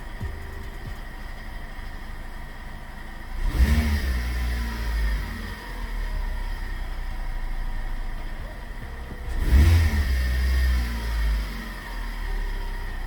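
A car engine revs twice during a diagnostic scan tool test, each rev a rising then falling surge over a steady idle hum, about six seconds apart, with no voices.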